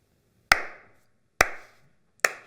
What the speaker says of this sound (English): Slow clap lead to like standing up and applying.